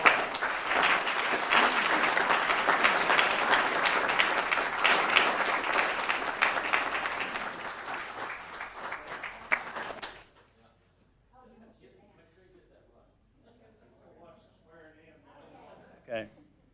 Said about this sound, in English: Let's give him one more round of